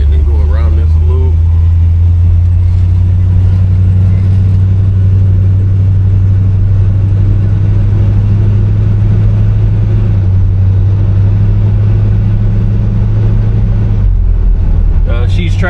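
A 1968 Chevrolet Impala convertible with custom interior drives and accelerates around a loop, its engine a loud, steady low rumble close by, with a person talking underneath.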